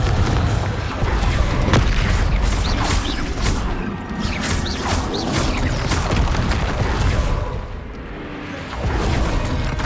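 Booming spell blasts from a Hogwarts Legacy wizard duel, loud crashing explosions and whooshes bursting repeatedly across a dense, continuous battle din, with brief lulls between hits.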